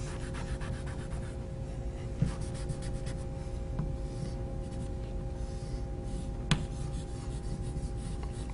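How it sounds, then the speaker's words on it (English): Blue marker being erased from a board, a soft continuous rubbing and wiping over a steady low hum, with a couple of faint taps, no talking. "I need to erase some of the blue."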